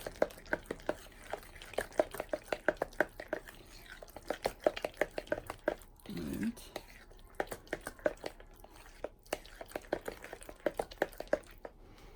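A whisk beating batter for gluten-free keto buckwheat bread after baking soda is added: rapid, regular clicking strokes against a bowl, close and crisp, with a short pause and a brief scraping stir midway.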